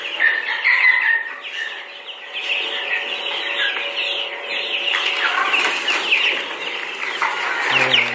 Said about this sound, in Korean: 병아리가 막 들어와서 지금 잘 먹고 물도 잘 마시고 있다.